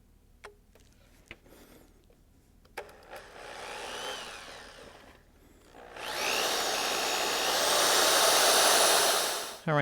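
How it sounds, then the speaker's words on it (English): A big drill bit bores out a hole in a Chevy Cobalt during an iPod accessory install, a faint whine rising around four seconds, then a louder sustained grinding drone from six seconds on, preceded by a few light clicks. "let's go ahead and drill this guy out"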